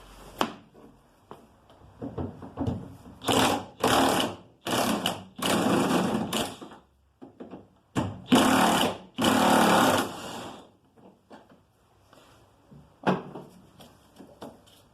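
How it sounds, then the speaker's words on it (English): An impact wrench removing the last bolts while building a custom Morris Minor camping trailer, heard as loud, close bursts of rapid rattling hammering separated by brief pauses, then quieter clatter. "now you're going to ugga-dugga those last few bolts off"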